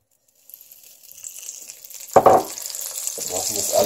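Lemon oil and butter hit a hot frying pan and break into a steady crackling sizzle that builds after a quiet start, with a sharp burst of spattering, close and fairly loud.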